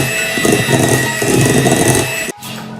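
Electric hand mixer beating butter at speed 2, a steady loud motor whine with rhythmic churning pulses from the beaters, cutting off abruptly near the end.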